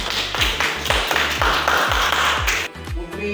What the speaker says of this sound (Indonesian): Oke, tepuk tangan buat Miss Baujana.